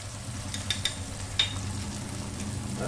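Ground cumin, coriander and turmeric frying in oil in a pan for a cabbage chicken curry: a steady soft sizzle with a few light spoon clicks and scrapes, close by, with a low background hum and no talking.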